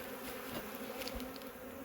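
Honey bees working new comb in an opened hive produce a dense, unbroken hum nearby, with a few individual bees zipping past over the steady drone and no one speaking.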